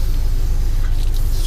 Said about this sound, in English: spray, rinse wand, all the water's working good.